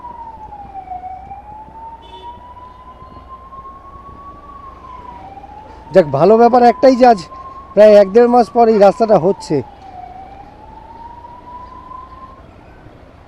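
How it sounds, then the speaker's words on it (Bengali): Ambulance siren on a broken road under repair during morning traffic, a steady wailing tone that rises and falls throughout, fairly close, while someone speaks over it in the middle. "আরে আর অ্যাম্বুলেন্সটা যেতে পারবে?"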